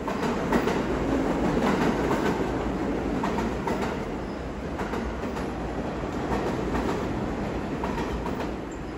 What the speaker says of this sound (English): A train just passed by us